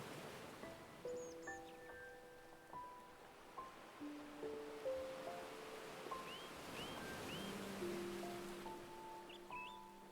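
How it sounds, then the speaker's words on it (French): Sea waves wash onto the shore in a slow, regular rhythm, soft and distant, surging gently beneath quiet, drawn-out musical tones. "Le rythme des vagues est constant, régulier, comme une berceuse."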